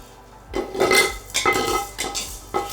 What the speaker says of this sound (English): Transfer to a bowl.